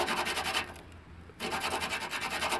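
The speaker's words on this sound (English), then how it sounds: "sand it and rotate it. This rust is a little on the heavier side, so I'm using 100 grit" Steady back-and-forth rasping of 100 grit sandpaper scrubbing heavy rust off a 1999-2004 VW Beetle part, loud and continuous with a brief quieter pause midway.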